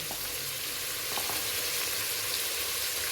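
Chopped vegetables with peas, salt and turmeric fry in a hot pan with a steady close sizzle and occasional stirring scrapes. No voices are heard.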